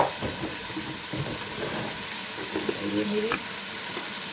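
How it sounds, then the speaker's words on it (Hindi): Beef paye frying in a pot, with a loud, steady sizzle and hiss and some stirring scrapes close by, while someone speaks briefly over it. "अभी हम अच्छी तरह से भूनेंगे।"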